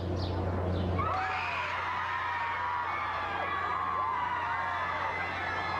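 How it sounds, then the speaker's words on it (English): A crowd gathered outside a courthouse after a celebrity trial verdict, cheering and whooping at a distance in a sustained roar, with scattered high shouts over a low rumble. "Outside, the crowd erupted in cheers."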